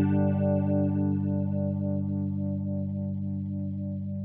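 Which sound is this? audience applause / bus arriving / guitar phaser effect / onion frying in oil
guitar phaser effect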